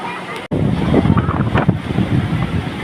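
Steady loud rushing of fast-flowing water in the Thamirabarani river at Papanasam fills the clip, a broad continuous roar close to the microphone with no pauses.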